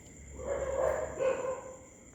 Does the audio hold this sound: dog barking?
yes